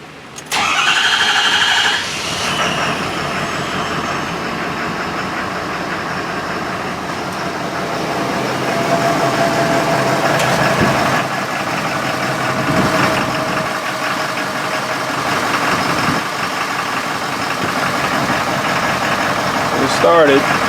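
A 6.7L diesel truck engine, cross-fueled with DEF, cranks and catches, then idles roughly and loudly for a long stretch, with someone speaking occasionally over it.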